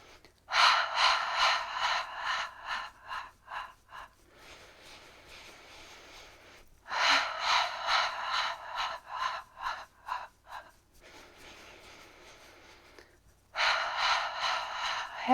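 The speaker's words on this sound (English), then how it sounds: "we're going to start taking nice deep breath in through the nose, and we're going to breathe out through the mouth" Slow, deep breaths drawn in through the nose and pushed out through the mouth in a relaxation exercise, close and clear, with long breathy rushes alternating with softer exhales in a steady repeating cycle.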